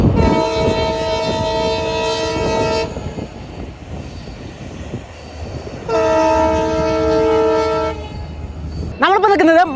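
Train at Mandapam railway station near the new Pamban bridge, sounding loud close horn blasts twice with rumbling rail noise between, and a brief burst of voices at the end.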